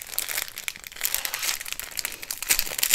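Crinkly plastic bag of diamond painting drills being worked open by hand, giving a continuous loud crackling and crumpling that swells in bursts over a few seconds, with no talking.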